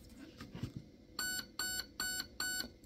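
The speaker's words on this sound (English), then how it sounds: "That beep means now we are in programming mode for auto" A Raven Evolution Furion ETU electronic trigger unit gives four evenly spaced, sharp electronic beeps in programming mode, loud and clean after a moment of faint handling noise.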